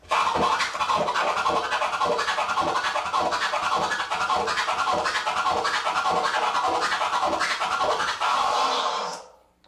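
Fast, dense turntable scratching with stuttering chopped bursts repeats steadily, loud and up close, then stops abruptly.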